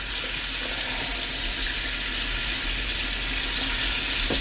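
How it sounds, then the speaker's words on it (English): Onions seasoned with steak seasoning sautéing in a pan, giving a steady, even hiss and sizzle that holds at a constant level throughout with no voices. "we're just gonna let them saute on up"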